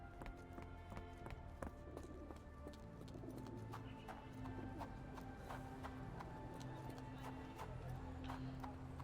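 Horse hooves clip-clopping at a New Orleans port in the Sherlock Holmes: The Awakened video game: a faint, steady rhythm of hoofbeats under a busy ambient bed with cooing pigeons and distant background noise.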